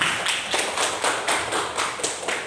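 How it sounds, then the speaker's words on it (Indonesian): A class of seventh-grade students at an Islamic school claps together in a steady rhythmic beat, each clap a broad loud burst repeating about every half second, filling the room with no talk. "Tepuk tangan"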